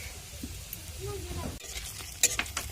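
Crushed bori lentil dumplings frying in oil with nigella seeds and whole dried red chillies in a kadai, a soft low sizzle with a few utensil scrapes and clinks, a voice briefly audible in the background.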